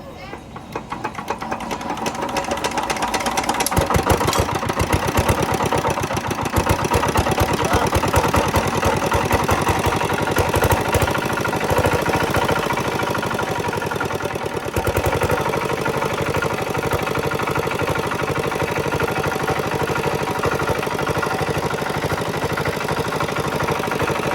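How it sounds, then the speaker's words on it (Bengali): An old CD R170 water-lifting engine starts and settles into a steady, loud running chug that continues evenly throughout, close by. "ইঞ্জিনটা এখন আপনাদেরকে স্টার্ট করে ইঞ্জিন সাউন্ড কোয়ালিটিটা শোনাই"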